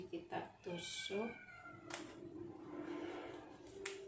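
A cat meows repeatedly after waking, a few rising, drawn-out calls asking for food, close and fairly loud, with someone talking around them in a home kitchen where spiced fish is being prepared.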